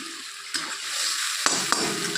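Masala with turmeric, chili powder and Kashmiri chili powder sautéed in a pan for a cauliflower and paneer curry, giving a soft continuous sizzle broken by a few sharp spatula knocks, with no talk.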